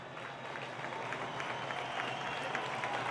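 A crowd in a town square applauds a young castell climber during a Sant Jordi human-tower festival, with steady dense clapping and cheering sustained at moderate distance throughout.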